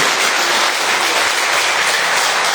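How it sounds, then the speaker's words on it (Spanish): Congregation applauding during an evening church service, a dense, steady wash of clapping from many hands that holds at full strength throughout with no talk over it. "Aplaudan al Señor esta noche."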